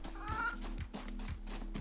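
Video game chicken clucks in short repeated bursts over a soft steady background, with several distinct fowl calls.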